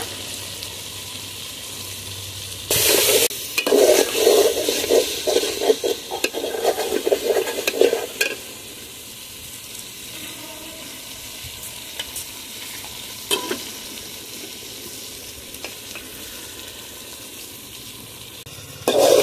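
Meat with chopped tomatoes stir-frying in a pan, a steady sizzle broken by a loud burst of spatula scraping and clattering early on, then settling into a quieter crackle with occasional sharp scrapes.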